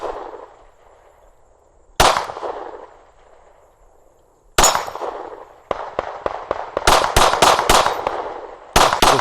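Sharp gunshots from a Palmetto State Armory Dagger pistol, a Glock-style handgun, crack outdoors with echoing tails: two separated single shots, then a rapid string of about eight shots and a final one.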